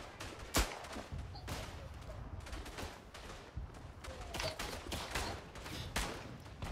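Machine gun fire in a WW1 video game crackles as scattered sharp shots and short bursts over a steady battlefield din, with one especially loud crack near the start.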